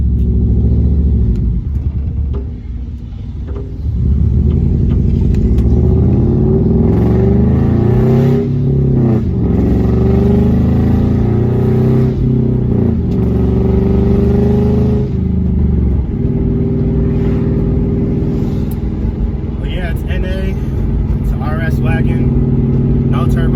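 A 2005 Subaru Impreza wagon, non-turbo, drives along with its engine rumbling and rising through gears, loud and close from inside the cabin, with a person talking over it for much of the ride.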